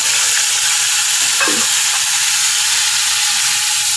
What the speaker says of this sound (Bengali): এবারে আমি কড়াইয়ে আবার তেল দিলাম। এখন দিয়ে দেব পেঁয়াজ বাটা,